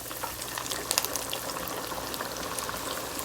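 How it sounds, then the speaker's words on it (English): Big pieces of Haitian-style fish sizzle and bubble in hot oil in a deep fryer, a steady, dense crackling hiss with scattered louder pops and no voices. "I'm gonna go ahead and place it in our deep fryer like this"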